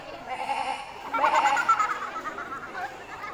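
A voice imitates a goat's bleat, a wavering nasal cry rising partway through, fairly quiet.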